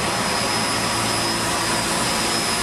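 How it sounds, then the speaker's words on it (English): A belt-driven cooling tower fan motor runs with a loud, steady, broadband roar and a constant high whine, close and uninterrupted. "It is a belt-driven motor fan."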